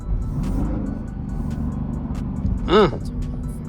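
A Dodge Durango R/T cruises through the city at night with a steady low engine drone heard from inside the cabin, and a brief rising whine near the end.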